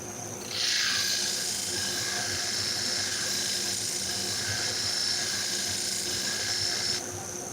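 Salon shears are ground on a sharpening machine, a steady high-pitched whirring grind that starts abruptly, holds evenly and close for several seconds, then cuts off, over a low motor hum.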